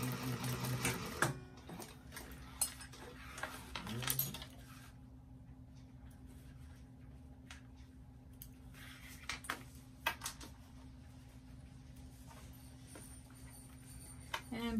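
A sewing machine bastes the raw edges of bag lining fabric together, running in steady whirring stretches with short pauses and a few louder mechanical clicks and knocks. It is heard close up.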